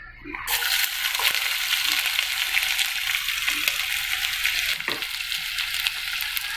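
Loud, steady sizzling of onions frying in hot oil, a dense crackling hiss that continues without a break, with occasional stirring sounds.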